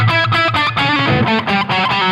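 Distorted electric guitar chords ring out continuously through a Chandler Tube Driver clone overdrive pedal, thick and crunchy with sustained overdriven tone, a few strums blending into one another without pause.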